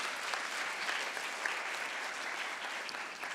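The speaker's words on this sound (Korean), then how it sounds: "큰 박수 부탁을 드리고요." Audience at the 2017 Seoul International Fair and Sustainable Tourism Forum applauding after a presentation, a steady even wash of clapping with no voices over it.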